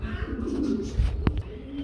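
Racing pigeons at a pigeon farm give a low, throaty coo nearby, with a short chirp and faint background murmur in the brief moment.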